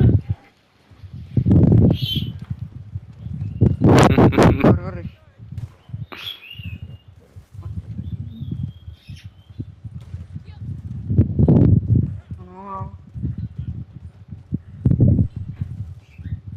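Horse hooves clip-clop in the video game Red Dead Redemption 2, an irregular trot mixed with loud bursts of other game sounds and louder noise swells.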